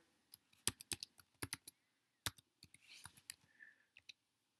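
Quick clusters of crisp key taps on a computer keyboard as an email and password are entered, bursts separated by short pauses, close and fairly quiet against a silent background.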